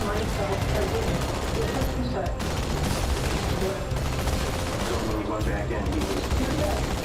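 Continuous gunfire in the video game Halo Infinite, a dense, steady stream of automatic shots and bursts with brief dips, with people talking over it throughout.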